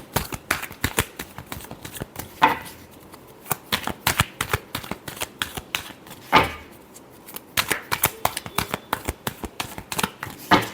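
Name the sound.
shuffling tarot cards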